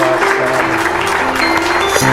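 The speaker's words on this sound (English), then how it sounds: "how about a round of applause for our wonderful guest, Anne?" A live audience applauds guests at a leadership talk, a steady wash of clapping heard over a faint tonal hum and a brief voice at the close.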